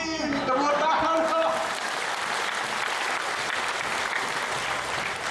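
Audience applause at a spiritual talk, a dense, steady wash of clapping from a large crowd, loud and sustained throughout with faint voices and a little laughter mixed in early.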